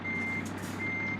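Truck reversing alarm in a truck simulator video game, a steady high electronic beep tone under a low idling engine hum, fairly close and continuous.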